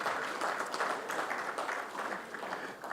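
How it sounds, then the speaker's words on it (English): An audience claps at an African Heritage Awards ceremony, steady moderate applause from a crowd, fairly distant and even throughout. "Please give her a round of applause."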